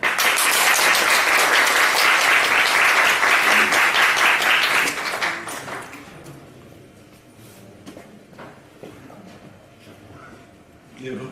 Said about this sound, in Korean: 다음 발표자 김용기 대표님을 박수로 환영하겠습니다